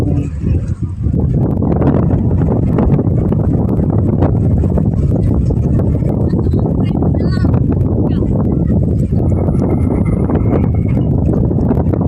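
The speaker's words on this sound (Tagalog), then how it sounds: "lakas po kasi ng hangin." Steady strong wind roars and buffets the microphone throughout by a riverbank where people are fishing, loud and close, with people talking underneath.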